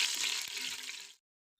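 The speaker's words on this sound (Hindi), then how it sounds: "अब इसमें जीरे की थोड़ी सी भुनाई करनी है कुछ देर के लिए।" Cumin seeds roasting in a pan for a lobia masala curry give off a steady bright sizzle that runs for about a second before stopping abruptly.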